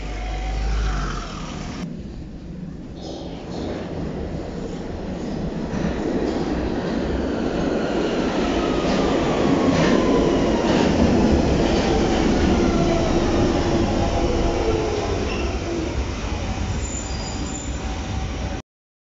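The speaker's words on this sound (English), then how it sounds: "now I've got on this DLR train to Limehouse" A DLR light rail train in London rumbles steadily along the track, loud and continuous, with a rising whine of motors and occasional faint wheel squeals.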